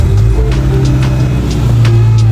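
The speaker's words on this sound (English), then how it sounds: "Let's start it up real quick." A fire-damaged Subaru's engine runs loud and close at a steady low idle, with a constant deep hum and no voices.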